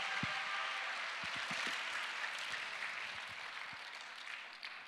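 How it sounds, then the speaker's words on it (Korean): Sustained applause from a youth winter retreat audience in a church hall, a broad steady wash of many hands clapping at moderate distance for several seconds, no speech over it. "다시 한번 큰 박수 부탁드리겠습니다"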